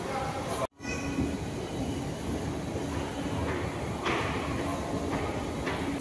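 Metro train at Howrah metro station, a continuous rumbling rush of the carriages with a brief dropout near the start and rising wheel noise later, nearby voices faintly mixed in.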